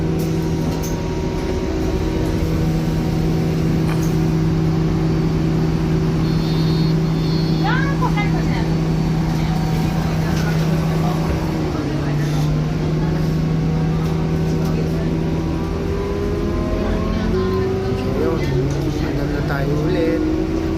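Inside an RTA C1 city bus in Dubai, travelling from Satwa toward Union, a steady loud engine hum and cabin rumble runs throughout, with faint rattles and brief tonal beeps.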